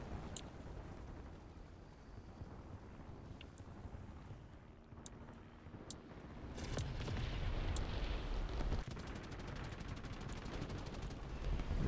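Gunfire in a video game: a few scattered sharp cracks early on, then from about seven seconds a loud, sustained barrage of rapid shots and rumbling booms that keeps going to the end.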